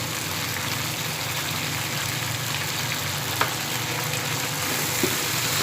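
Chicken with spices such as ground cumin sizzles steadily in a pan while being roasted for shimla mirch chicken, a constant close frying hiss with a couple of faint clicks and no voices.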